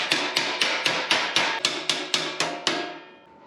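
About ten sharp, evenly spaced hammer blows flatten a bent metal strip in a steady rhythm, each a bright clanging hit, close and loud with no talking.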